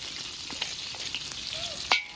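Coarsely crushed ginger frying in hot oil in a pan for a potato curry, a soft steady sizzle with occasional spoon scrapes and clicks of stirring, close by and without talk.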